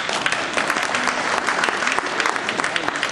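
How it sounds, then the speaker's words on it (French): An audience at a political support gathering applauds steadily, a dense, continuous patter of many hands at moderate volume from start to finish. "vous pouvez l'applaudir"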